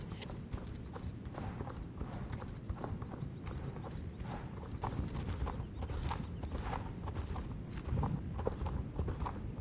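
A horse in the video game Star Stable Online struts with steady, rhythmic clip-clopping hooves at a show-jumping event, the hoofbeats continuous and moderately close throughout.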